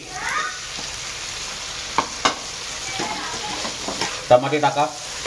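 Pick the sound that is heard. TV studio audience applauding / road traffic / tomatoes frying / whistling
tomatoes frying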